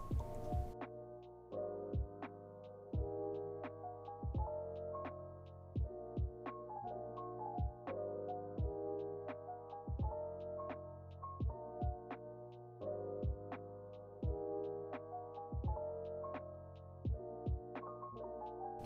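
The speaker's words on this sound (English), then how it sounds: "edge stitch the band in place from the right side" A home sewing machine edge stitches the band of a little girl's dress, running in steady rhythmic thumps with a faint motor hum, close and alone, pausing briefly at regular intervals.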